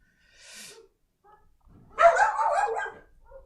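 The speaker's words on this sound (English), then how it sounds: "That's my dog." A pet dog gives a faint short yip, then one loud close bark with a rough trailing growl, indoors during a live stream, with no talk.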